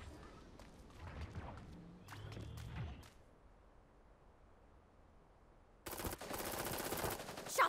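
Bursts of rapid gunfire crackle in the Super Mecha Champions battle royale game, a few quick volleys early, then a quiet gap before a loud, dense stretch of sustained shots near the end.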